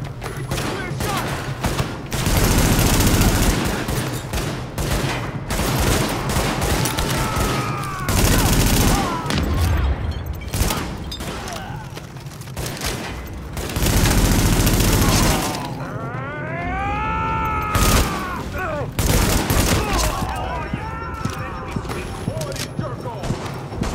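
Heavy gunfire rattles through a firefight in The Division video game, with dense bursts and volleys rising and falling over twenty-odd seconds, mixed with other game sounds and voices.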